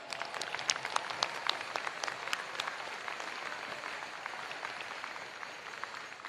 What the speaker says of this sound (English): Please take a moment to thank them with a round of applause.